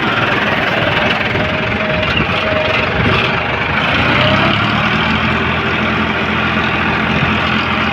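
A Farmtrac 60 EPI T20 tractor runs in a field, its diesel engine giving a loud, continuous knocking rumble with vibration, close by and steady throughout.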